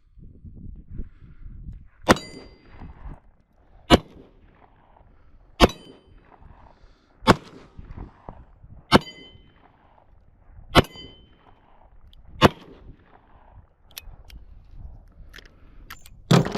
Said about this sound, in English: Smith & Wesson 686 5-inch barrel and 357 mag.